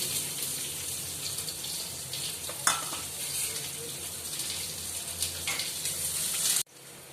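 Onions sizzle steadily in hot oil with whole spices (bay leaf, chili, curry leaves, black peppercorns and cumin) for Amritsari chole, with occasional stirring clatter before the frying cuts off abruptly near the end.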